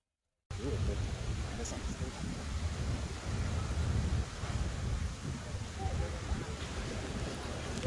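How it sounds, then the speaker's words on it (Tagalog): Strong wind and rough sea at a beach resort during Typhoon Betty, a loud blustery roar buffeting the microphone with churning surf beneath, starting abruptly and continuing steadily. "Kaya sobrang hangin at maalon"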